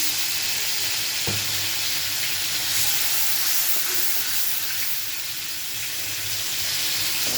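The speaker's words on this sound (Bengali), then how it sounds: "মশলা কষানোর জন্য আর একটু পানি দিয়ে দেবো" Water goes into ground ginger, garlic and cumin paste frying in a pan, giving a loud close sputtering sizzle that hisses steadily with a brief knock of utensil and light stirring.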